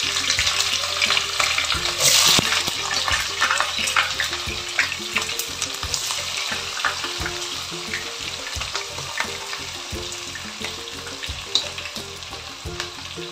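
Onions fry and sizzle loudly in a pan for biryani, a dense steady crackle with intermittent stirring scrapes close up and no speech.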